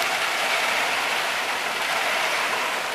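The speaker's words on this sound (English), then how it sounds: "The wind is nice, but it's making the rain come into the house" Heavy rain during Hurricane Irma pours down in a steady, dense hiss, loud and close, with no breaks and no voices.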